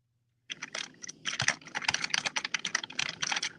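Rapid clattering keystrokes on a computer keyboard start after a brief silence and run on in quick irregular bursts, close and clear with no voices.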